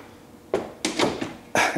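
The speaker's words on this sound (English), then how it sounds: "let's close the door." A door in a small manual screen printing shop is pushed shut, producing a few quick thuds and rattles in close succession, loud and near, ending with a final knock.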